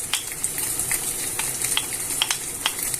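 Garlic fries in a pan for a chicken, chorizo, red bean and potato stew, a steady bright sizzle broken by small pops and the scrape of stirring, close and with no talk.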